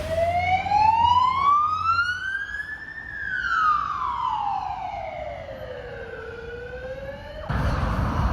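Ambulance siren on North Terrace in Adelaide, a loud wailing tone that rises then slowly falls as the vehicle passes, followed by a burst of traffic noise.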